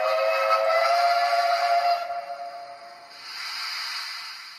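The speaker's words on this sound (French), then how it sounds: "un petit coup de sifflet" An H0-scale model of the SNCB Type 29 locomotive sounds a whistle, a loud sustained steamy hiss-whistle that holds for about two seconds, dips, then swells again more softly.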